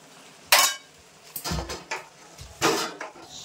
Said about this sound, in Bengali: এখন আমি কড়াইতে কিন্তু এই গামলায় নামিয়ে রাখবো